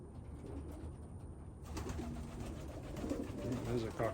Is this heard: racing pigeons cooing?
yes